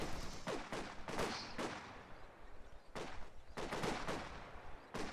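Rapid bursts of small-arms and machine-gun fire from the World War II strategy game Company of Heroes 2, with repeated loud volleys and short pauses between them.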